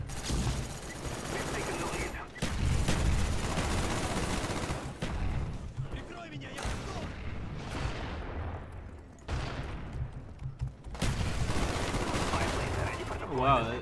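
AUG rifle hip fire in a Black Ops video game, loud rattling bursts of automatic shots in several stretches with brief gaps, while a voice talks over parts of the action.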